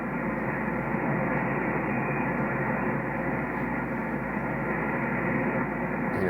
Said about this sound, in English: You know, I wouldn't be surprised if some of this interference is internal